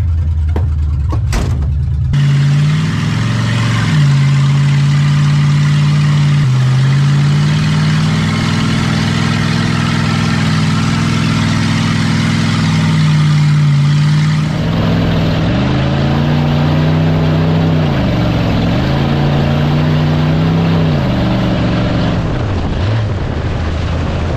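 A 1978 Lincoln engine running while driving through the gears, a loud steady drone that rises and falls in pitch with each shift and surges in revs, heard alone without talk.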